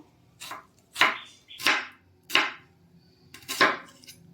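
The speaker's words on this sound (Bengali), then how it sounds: "হয়ে গেছে পেঁয়াজ কাটা" A knife chops onion on a board in five distinct, crisp strokes spaced about half a second apart, close and fairly loud, with no talk.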